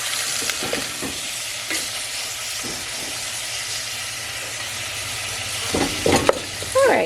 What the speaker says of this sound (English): you're going to get your hot oil, hot pan, stick your meat in there, and it won't stick when you're cooking